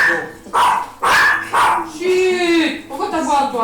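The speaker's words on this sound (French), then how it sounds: "Pourquoi t'aboies, toi, Ritas?" A dog barks indoors, close and loud, in several sharp bursts at an uneven rhythm, followed by a higher whining yip, while people talk nearby.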